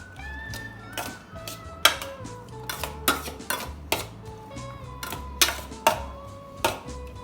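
Utensils clink and tap against a bowl as a Mediterranean salad is tossed with dressing, producing irregular ringing knocks close by.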